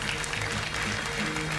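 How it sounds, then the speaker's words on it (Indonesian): A studio audience on an Indonesian evening talk show applauds steadily, a dense, continuous wash of clapping close and loud throughout the short stretch, with no voices on top. "Kita berikan tepuk tangan pada Ibu Titin"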